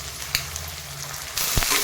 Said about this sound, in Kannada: ನೋಡಿ, ಈಗ ಇದನ್ನು ಕೂಡ ನಾನಿಲ್ಲಿ ಫ್ರೈ ಮಾಡ್ತಾಯಿದ್ದೀನಿ